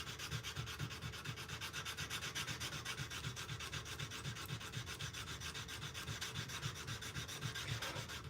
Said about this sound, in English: now I'm sanding back with the length of the blade with this 220